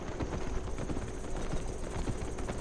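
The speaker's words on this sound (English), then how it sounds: "There's a horse." Horse hooves in Albion Online clop in a quick, even rhythm, faint and steady against a low background hum.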